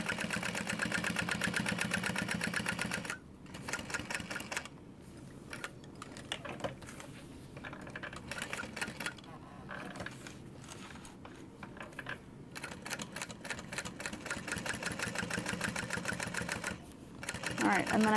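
A sewing machine stitches a zipper onto an Esme crossbody bag with a rapid mechanical chatter in bursts, pausing briefly between runs, while a person talks over it.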